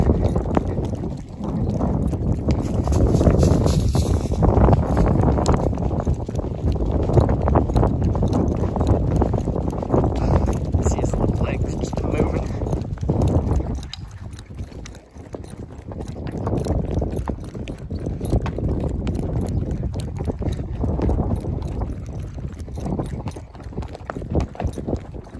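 A gaited horse carries its rider at a smooth, steady cruise along the Snake River, its hoofbeats a continuous near clip-clop rhythm blended with wind buffeting the microphone and no talk.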